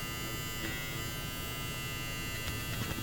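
Steady close electric buzz of a handheld electric seam ripper cutting through a fabric seam, a continuous motor drone with slight fluctuations and no pauses.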